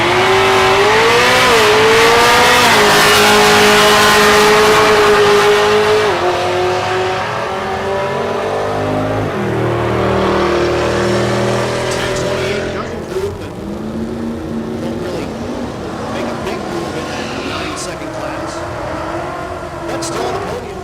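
Naturally aspirated small block drag race cars at Texas Motorplex in Ennis, Texas roar loudly at launch, engines revving high then shifting and fading down the strip, followed by a lingering track-side rumble.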